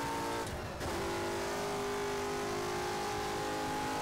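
A racing car in the rFactor sim holds a high, strained engine note in fourth gear, with a quick dip and climb in revs early on before the sustained whine settles, loud and close with no voices.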